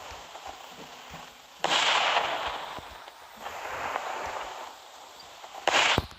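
Two bursts of booming, crackling bomb explosions in a Roblox game, one early and one near the end, with rumbling noise between and no talking.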